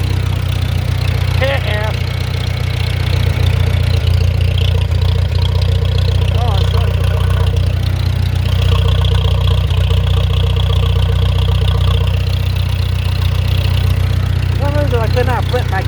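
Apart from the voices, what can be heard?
engine started up and idling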